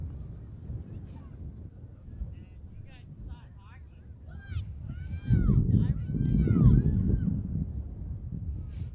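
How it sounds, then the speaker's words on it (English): Gusts of wind thump and roar against the microphone at an outdoor girls' lacrosse game, swelling louder in the second half, while people talk over it. "Again, the gusts of wind, you're hearing it."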